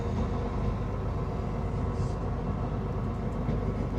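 Heavy, continuous rumble of a train rolling along the tracks from inside the carriage as it approaches Leeds station, steady and loud with a faint squeal midway.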